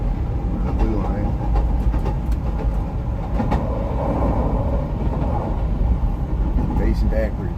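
A CTA Blue Line train heading toward O'Hare rumbles steadily as it rides out of a subway tunnel, with a constant low roar and faint rail clatter heard from inside the car.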